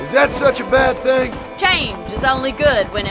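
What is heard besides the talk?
No everyday noise stands out behind the speech.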